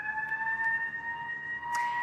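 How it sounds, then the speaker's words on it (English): Emergency vehicle siren wailing steadily in the background as it heads away, a faint continuous tone under street noise, with no talking. "By the way, siren in the background, I apologize. It's heading away from us."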